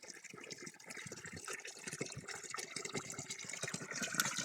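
Water runs from a hose while trees at a beekeeping apiary are watered, a continuous splashing gush onto soil and leaves that swells slightly louder toward the end.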